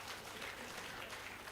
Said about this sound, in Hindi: इधर के लोगों की ताली थोड़ी कम बज रही है